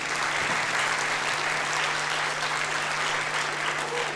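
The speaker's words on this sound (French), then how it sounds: "Sous vos applaudissements" Sustained, full audience applause greets an orchestra at a music-hall show, a thick continuous roar of clapping that stays level throughout, with a faint steady hum underneath.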